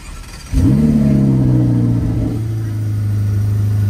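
A supercar engine cranks at the push of a start button and fires up at once into a loud, throaty rev, then settles into a deep, steady idle rumble close by.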